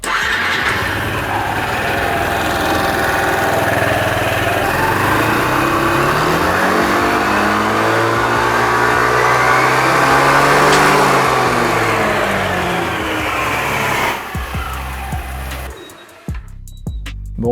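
A Yamaha XMAX scooter fitted with a Yasuni variator starts and revs up close, its engine note sweeping up and down through several long rises, then quickly winding down and cutting out near the end.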